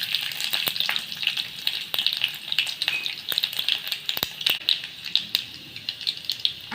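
Garlic frying with cumin in a pan of hot oil for pathri bhaji, a close, continuous crackling sizzle full of sharp pops and spatters, with no voices.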